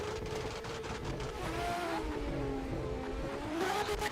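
A Toyota Supra drift car launches from the start line at a canyon street-spec competition, its engine revving hard with tire squeal and skidding. The sound is loud and sustained over a steady background roar.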